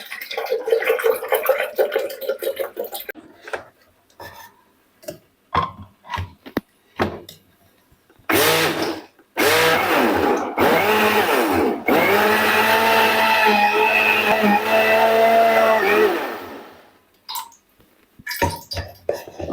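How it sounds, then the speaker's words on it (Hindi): A kitchen blender whirs loudly for about nine seconds while churning lassi, a thin yogurt water, its motor holding a strong steady whine. Short bursts of talk and clatter come before it, and quieter handling noises follow. "अब मैं आपको दिखाऊं कि मैंने लस्सी को भी ब्लेंड कर लिया।"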